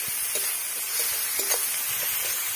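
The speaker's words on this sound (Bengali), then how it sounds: "ভেজে নেব।" Ginger and garlic paste fries in a pan with a steady, close sizzle, broken by a few soft scraping taps from stirring.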